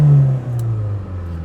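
A Kia Sonet's engine revs up from idle, a steady close hum rising and holding for about a second and a half, with no talking over it.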